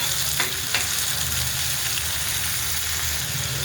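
Bell pepper pieces frying in hot oil in a pan for a masala cheese pav filling, a steady, loud, even sizzle with no talking.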